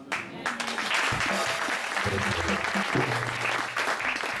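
A church congregation at a Sunday service applauds and cheers, a loud sustained wash of clapping with raised voices and shouts mixed in, filling the room for several seconds.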